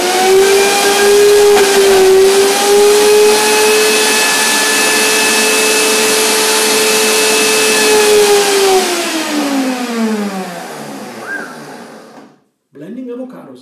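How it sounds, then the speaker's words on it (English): A kitchen blender whirs through avocado and dates for a walnut chocolate banana cake, giving a loud, steady motor whine for about ten seconds before the pitch sinks as the motor spins down, then a brief clunk after a pause. "So first, I blend the avocado and the dates."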